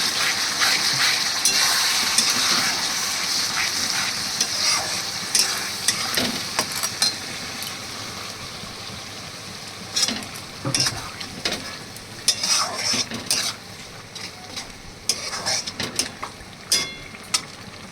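Ginger, garlic and chili paste fries in a pan for chicken kosha, with a continuous hiss and sizzle and repeated clattering stirs of a spatula scraping the pan, close and busy with no voices.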